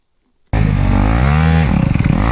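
An enduro motorcycle on an off-road skills day snaps into a sudden loud rev, the engine pitch rising and wavering before dropping into a choppy, uneven rumble as the clutch is popped.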